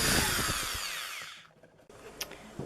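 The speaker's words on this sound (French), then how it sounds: "je vais perforer les trous pour attacher la mangeoire" A power drill bores holes through the edge of a homemade cardboard bird feeder, giving a loud, steady high-pitched whine that stops abruptly partway through, followed by a brief faint buzz.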